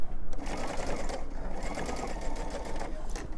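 Sewing machine stitching fabric strips for a baby strip quilt from a Bambino Cuddle kit, a steady close, continuous whir with a faint rhythmic patter running throughout.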